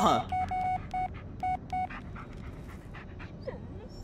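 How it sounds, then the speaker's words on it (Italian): In the Blair Witch video game, a dog pants and whimpers close by, alongside a run of short electronic beeps early on. Quiet talking can be heard underneath. "Il nostro amico cane."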